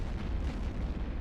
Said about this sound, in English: Blow up that guy with my guns.